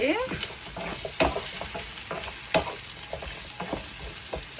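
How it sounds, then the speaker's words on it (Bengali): Vegetables stir-fry in a hot pan with a loud, steady sizzle, punctuated by repeated scraping and tapping stirs of a utensil at an uneven pace, heard up close with no talking. "ভেজিটেবলগুলা ইনস্ট্যান্ট ভেজে খাওয়াই হচ্ছে গিয়ে ভালো"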